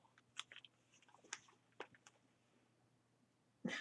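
A cat chews and bites on paper up close, producing irregular soft crunches and crinkles, ending in a louder rustle.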